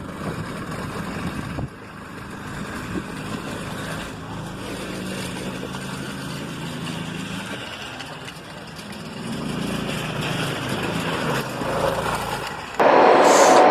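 A homemade go-kart engine runs steadily outdoors, a low rumbling drone with a rough idle that shifts in pitch, a loud passing train mixing in near the end, no talking.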